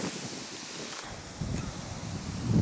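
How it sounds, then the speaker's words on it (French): Strong wind blowing across an outdoor spot where trees grow poorly, rushing and buffeting the microphone with rustling that swells toward the end, with no voices. "il y a énormément de vent"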